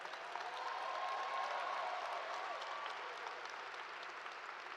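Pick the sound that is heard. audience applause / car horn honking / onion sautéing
audience applause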